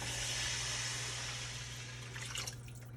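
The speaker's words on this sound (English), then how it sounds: "Next, guys, I'm gonna add water." Water pouring steadily into a pot of seafood gumbo with tomatoes, a broad continuous splashing wash that fades slightly, with a brief brighter gurgle near the end.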